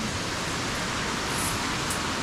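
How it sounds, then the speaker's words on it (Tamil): Water rushes down like a small waterfall in a forest after rain, a steady broadband hiss of flowing water that stays close and fairly loud throughout with no break. "தண்ணி ஃபால்ஸ் மாதிரி ஊற்றுது"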